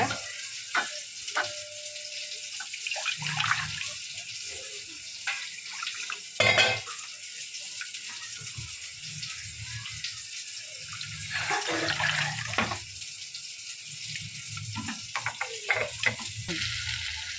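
Water splashes and gurgles into a metal cooking pot in several uneven bursts while rasam with tomato is being prepared, with light clinks of the vessel between pours.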